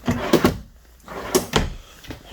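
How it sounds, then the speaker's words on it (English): Full extension drawers in a 2021 Cougar 364BHL RV kitchen island slide open and shut, giving several quick knocks and thuds close by in a short burst, with no talking. "And then I have 4 full extension drawers right here."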